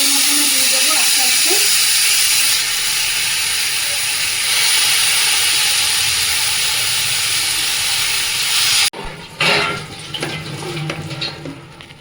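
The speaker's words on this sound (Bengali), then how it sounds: "দুটো শুকনো লঙ্কা দিলাম তেলের মধ্যে দু সেকেন্ড মতো এটা একটু ভাজে নেবো" Two dried red chillies fry in hot oil with a loud, steady hiss that stops abruptly near the end, followed by quieter clatter.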